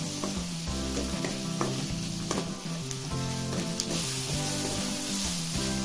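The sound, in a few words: tomatoes sautéing in a pan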